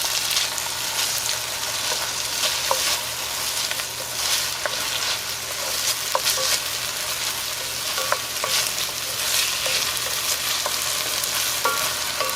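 Onions, garlic and tomato softening in oil for a vegan albondigas meatball soup, a dense steady sizzle punctuated by scattered light taps and scrapes of stirring, close and continuous with no talking.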